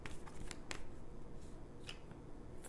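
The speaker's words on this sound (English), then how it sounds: "Let's get two cards." Tarot cards slide and snap from a deck in a few quick crisp flicks and rustles, close and fairly quiet, with no talking.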